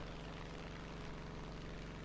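Propeller fighter engine drone in War Thunder, a steady loud harmonic roar with a buzzing rhythmic beat, continuous throughout with no talk over it.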